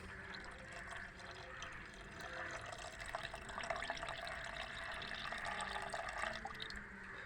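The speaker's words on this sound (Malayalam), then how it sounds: "ഈ ലായനിയിലേക്ക് നമുക്ക് ഇതാ നമ്മളെ സോപ്പ് വെള്ളം ഒഴിച്ചു കൊടുക്കാം" Soapy water pouring and trickling steadily into a solution in a container, with small drips and splashes throughout; fairly quiet and close, no talking.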